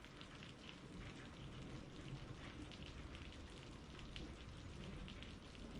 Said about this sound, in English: The rain continues to fall, soft and patient